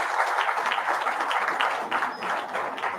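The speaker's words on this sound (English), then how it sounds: "acknowledge that with an applause for your parents" An audience at a graduation felicitation ceremony applauds their parents, a dense, steady clapping from many hands that carries on evenly and fairly loud throughout, with no pauses.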